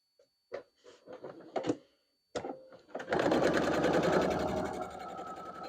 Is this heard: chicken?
no